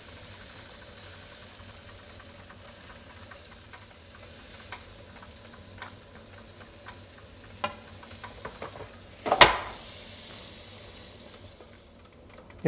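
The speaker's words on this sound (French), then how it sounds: "On vient déposer une jolie quantité de pâte dans notre gaufrier." Brussels waffle batter cooking in a waffle iron, a soft continuous sizzle and hiss of steam with faint crackling, broken by a few sharp clicks and clatters of the iron.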